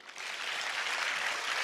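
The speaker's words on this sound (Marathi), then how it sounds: "बघा त्याच्यासाठी टाळ्या वाजवा." An audience claps steadily for a student at a Marathi motivational lecture, a dense wash of applause that swells in the first moment and then holds level, with no talking over it.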